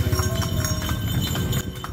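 Horse hooves clip-clopping as a horse-drawn delman carriage moves around the town square in Bogor, a steady rapid trot of close, clear hoofbeats over street noise.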